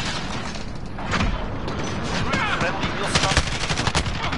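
Rapid gunfire in a video game crackles in dense bursts and fusillades, with a few louder shots standing out near the end.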